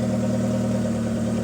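A Mitsubishi 4G64S4M car engine runs with a loud, steady, close mechanical drone, the revs held fairly even throughout.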